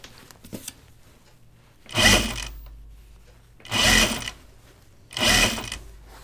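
A sewing machine stitches through stiffener in three loud whirring bursts of about a second each, separated by quiet pauses, close by and with no talking.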